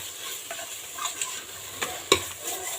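Tomatoes sautéing in a hot pan for kuska, a soft sizzle under scattered stirring scrapes with one sharp clack of the spoon against the pan near the end.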